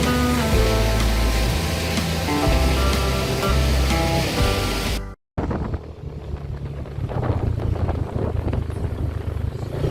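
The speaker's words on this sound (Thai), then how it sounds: "ก็เลยเดินลงไปดูน้ำตกกันใกล้ๆ" A waterfall in Chiang Mai fills the clip with a steady, loud roar of rushing water, broken by a brief cut partway through, then continuing with a slightly thinner wash.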